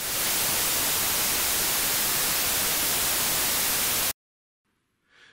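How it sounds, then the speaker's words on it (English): Loud, dense white noise generated from random numbers hisses evenly for about four seconds, then cuts off abruptly into near silence, followed by a faint bit of sound at the very end. "The white noise samples I've been playing to you represent a very special white noise."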